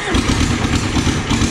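A Sears Hydro diesel garden tractor engine cranks and catches on the key, running as a loud, steady clattering diesel chug that fills the whole clip with an uneven low thumping pulse.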